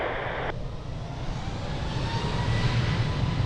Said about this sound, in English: Boeing 737 is now departing